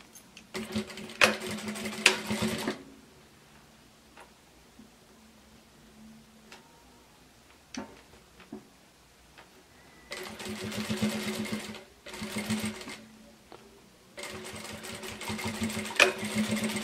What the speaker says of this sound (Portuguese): E agora eu vou costurar.